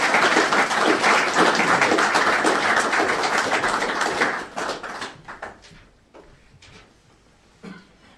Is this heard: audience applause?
yes